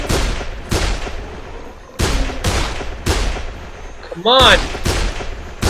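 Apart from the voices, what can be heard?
gunshots shooting zombies in Dead Island video game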